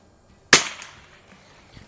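A single sharp rifle shot, a Winchester 52 or Mossberg 146ba firing at a lower splatter target, cracks once loudly and close against near silence, then decays quickly.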